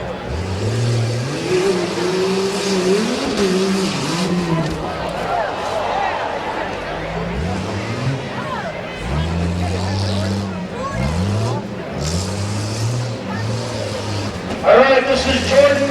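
At a Medina County rough truck event, a 1998 Jeep Escalade numbered 26 races with a rough engine that revs up and down in repeated rising and falling surges, loud and close, while an announcer talks and a crowd murmurs.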